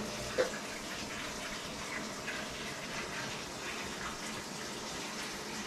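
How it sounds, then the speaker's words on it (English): Water runs continuously into a filling washing machine, a steady faint gushing hiss with no talking. "you can hear, so the water is running now"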